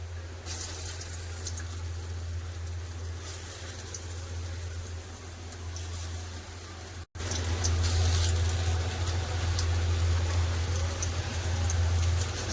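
Lentil fritters fry in a pan of hot oil beside fish, giving a continuous bubbling, rain-like crackle over a low steady hum, briefly cut by a short dropout midway before resuming louder.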